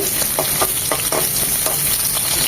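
Half a cup of coarsely chopped onion fries in a pan with cinnamon pieces, giving a loud, continuous close sizzle with scattered scraping stirs throughout.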